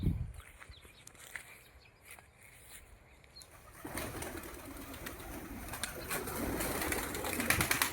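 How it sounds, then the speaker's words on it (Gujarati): Pigeons cooing around a farm field, soft calls at first under light outdoor ambience, then a rising rustle of wings and background noise through the second half. "જતા કબૂતરા"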